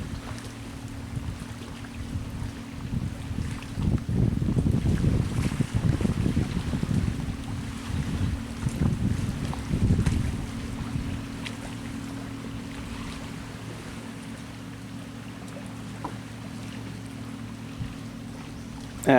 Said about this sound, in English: it's actually perfect weather right now because it's so windy